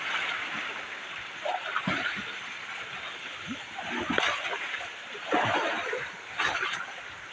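Sea waves slap and splash against a small fishing boat out on open water, a continuous rushing wash broken by several louder surges of spray.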